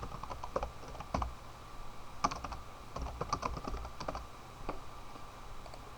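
Keys clicking on a computer keyboard while parameter values are entered into software, a steady run of light, close taps in uneven bursts with short pauses, alone without talk.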